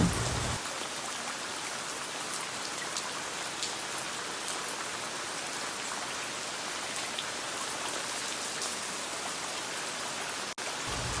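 Steady rain pours down on a surface, a dense, even patter of drops continuing throughout with no voices.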